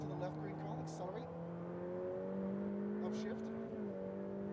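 A Ferrari F8 Tributo accelerates on a race track, its engine note climbing steadily in pitch and fairly faint beneath a voice giving driving instructions.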